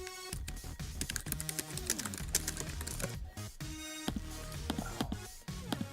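Rapid, uneven clicking of keys on a computer keyboard, close and continuous with short pauses between bursts of typing.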